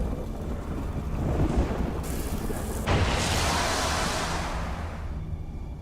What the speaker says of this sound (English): let's use Lightning Rune